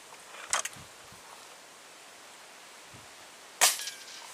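Two sharp, snappy air rifle shots at bottle-cap targets 25 metres away ring out a few seconds apart against a quiet, windy outdoor background.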